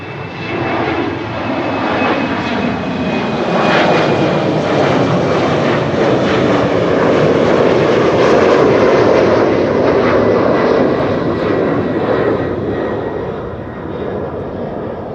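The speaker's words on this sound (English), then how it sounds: "There's an Embraer 190 taking off to Nantes from 18 left." An Embraer 190 airliner taking off from runway 18 left at Amsterdam Schiphol, its jet roar building loud and near, peaking midway and easing slightly as it climbs away, heard alone in the wind.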